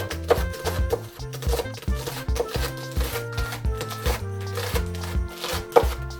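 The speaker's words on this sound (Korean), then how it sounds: "청양고추 10개를 잘게 다져주세요." A knife finely chopping Cheongyang chili peppers on a cutting board, a rapid run of crisp, evenly spaced taps with small pauses, close and clear, with no voices.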